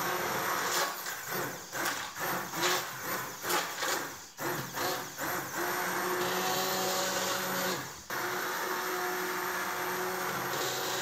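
A blender whirs through hot homemade tomato sauce meant for canning, running in loud bursts that surge and dip before settling into a steady, continuous grind near the end.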